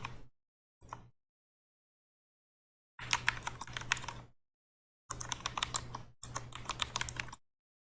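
Rapid clicking of keys on a computer keyboard in several separate bursts with brief silences between, close and clear, no voices, during a Star Wars card game tournament match.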